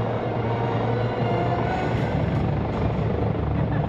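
A Coast Guard search-and-rescue helicopter hovers close by at the 2018 Joint Base McGuire-Dix-Lakehurst open house and airshow, its rotor producing a steady, loud, continuous throbbing roar that holds evenly throughout.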